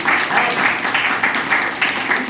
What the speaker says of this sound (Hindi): एक बार पूरा तालियां अपने संजीव सर के लिए और अरविंद सर के लिए